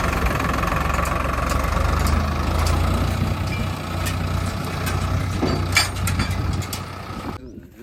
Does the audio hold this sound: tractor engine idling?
yes